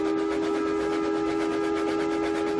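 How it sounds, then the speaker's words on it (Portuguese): A steady, sustained train whistle with strong tonal bands holds evenly throughout, loud and continuous with no pauses. "E o apito de um terceiro trem iluminado soou."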